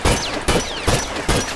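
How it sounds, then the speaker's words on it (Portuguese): Semi-automatic gun fire in the video game The Last of Us: four loud, sharp shots in quick even succession, each with a short ringing tail, filling the brief stretch without speech. "eu atirando com a semi-automática no L2R2 sem controle turbo"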